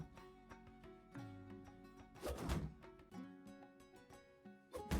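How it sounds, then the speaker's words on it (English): A weapon strikes a shield in the medieval combat game Gloria Victis, with a heavy thudding impact near the middle and another at the end, set against steady in-game music and ambience. "is going to hit my shield and show the effects of shield durability"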